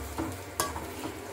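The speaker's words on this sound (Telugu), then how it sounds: "ఎగ్స్ అయితే వేసుకునేసాను. పోతే మొత్తం మిక్స్ చేసుకునేద్దామండి." Eggs are stirred into a hot pan with other ingredients and fried, giving a low steady sizzle with a soft scrape of stirring and one sharp utensil knock against the pan.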